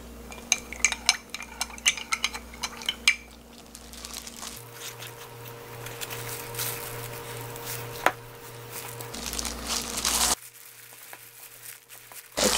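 Sugar is stirred to dissolve into a barley dough mixture for Korean barley gaetteok, with light clinking and scraping taps early on, then softer steady mixing sounds close by.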